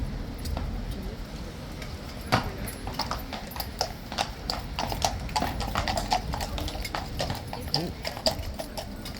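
Hooves of a massive black King's Guard horse clip-clop on a hard surface in an irregular walking rhythm, close by, with faint background noise and occasional voices.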